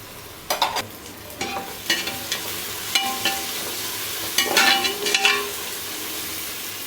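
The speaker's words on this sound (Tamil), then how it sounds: "ஓகே ஃப்ரெண்ட்ஸ், வெங்காயம் நல்லா வதங்கிடுச்சு." Onions sauté in a pan for a home-style biryani while a spoon stirs, giving repeated scraping strokes over a soft, constant sizzle with no voices.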